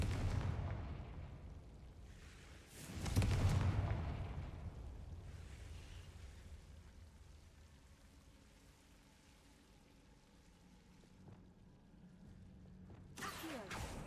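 A Confringo blasting spell explodes in a Harry Potter video game: one loud, booming blast with a rumbling tail, followed by quieter ambient game sounds and a faint later burst, with no talking.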